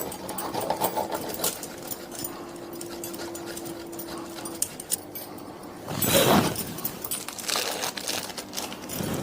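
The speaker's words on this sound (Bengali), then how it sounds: "এইবার এরকম একটা গ্রেটার মেশিন দিয়ে চিজটাকে আমি" A hand-operated grater machine shreds cheese for a roti pizza, giving a steady mechanical whir for several seconds, then a pause and a louder, rougher burst of grinding and rattling near the end.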